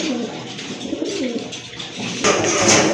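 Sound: big pigeons cooing

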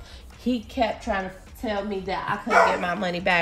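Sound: dog barking

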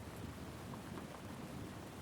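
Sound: sound of rain

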